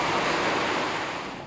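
Strong storm wind roars in a dense, broad gust that buffets hard then eases slightly over a brief moment, with no talk.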